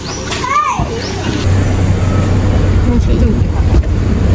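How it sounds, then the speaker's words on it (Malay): A car rolls past on a village road amid children playing and chatting, its engine a steady low rumble that swells and holds under the voices. "Kereta tu nak lalu ke?"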